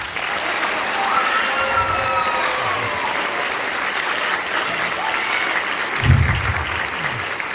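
Sustained audience applause fills a school end-of-year concert hall, a steady wash of clapping from a large crowd, with faint voices and a brief louder bump partway through.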